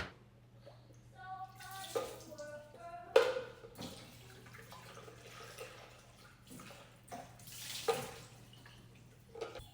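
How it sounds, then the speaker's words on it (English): Dirty water from a Dirt Devil carpet cleaner tank poured out into a sink, a quiet uneven splashing and dripping with a few louder gushes over a steady low hum. "I'm gonna go to the sink, you just take that off and you dump it out."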